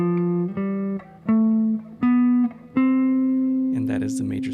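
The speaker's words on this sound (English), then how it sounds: "And that is the major scale on one string." A guitar picks out a major scale one note at a time along a single string, each plucked tone ringing clearly and stepping upward at a steady pace, with a brief strum or noisy flourish at the end.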